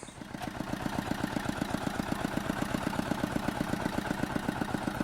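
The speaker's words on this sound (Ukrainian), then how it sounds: "Це їде трактор." A mini tractor engine chugging with a steady, rapid rhythmic putter as it drives away, moderately close and consistent throughout.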